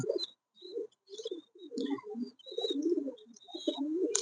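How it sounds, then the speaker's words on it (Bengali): Satin pigeons coo at a pigeon farm, their soft, repeated throaty calls coming in short bursts with brief pauses, fairly close, with no talking. "আমার ফার্মে এরকম টাইপের কবুতর অনেক আছে"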